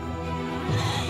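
A sheep bleats with a steady, wavering cry at close range in an Indonesian village in the late afternoon, set against a constant outdoor background hum with no talking.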